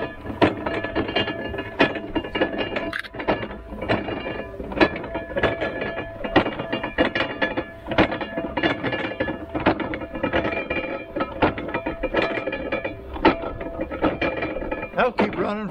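A hand-cranked ear corn sheller runs on its flywheel's momentum, clattering and ratcheting mechanically in a steady, close, loud rhythm, with faint talk at moments.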